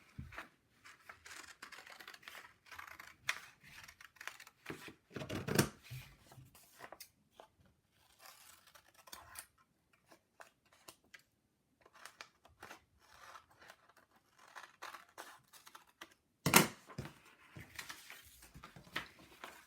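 Scissors cut construction paper in irregular crunchy snips and rustles, faint and close, with pauses between runs of cuts and one louder scrape near the end.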